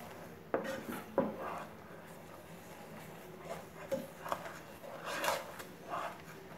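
A spoon stirs dry ginger powder and cardamom powder together in a pot for puffed rice balls, giving soft scraping and a few sharp metal clinks, quiet and close.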